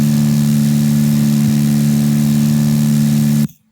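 An aircraft engine in the X-Plane flight simulator game runs at take-off power as a loud, steady, droning hum with a fixed pitch, then cuts off abruptly.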